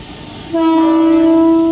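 A Mumbai local commuter train horn starts suddenly and holds one loud, steady tone against a quieter rail background at a Central line station platform.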